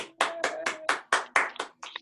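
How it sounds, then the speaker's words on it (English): A short burst of applause from a small group, with several sharp clapping bursts that fade out over about two seconds. "Everyone, round of applause for yourself."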